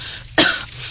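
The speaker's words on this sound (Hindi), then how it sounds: "जोर जोर से खांसने लगती है" A cartoon woman cooking at a stove gives one loud, sudden cough, close and alone, followed by quieter breathy noise.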